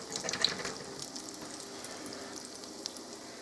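Cake donuts frying in hot oil give a quiet, steady sizzle with soft bubbling and a few small pops, with no talk.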